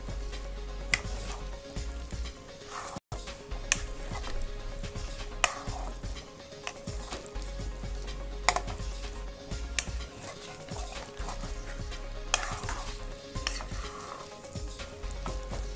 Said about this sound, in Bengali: নাড়িয়ে চাড়িয়ে খুন্তির সাহায্যে নাড়িয়ে চাড়িয়ে হতে দেব।